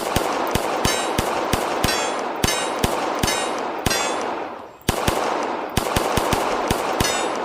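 Steady strings of close, loud gunshots in a timed shooting drill, each shot ringing with metallic clangs off a rotating Texas star steel target, briefly pausing midway before the rapid fire resumes.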